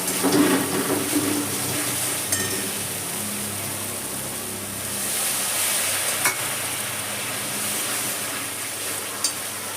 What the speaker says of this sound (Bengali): একটু জল দিয়ে আমি কষিয়ে নেবো মশলাটাকে